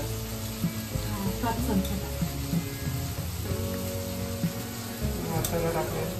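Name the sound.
coconut masala paste frying and being mixed in pan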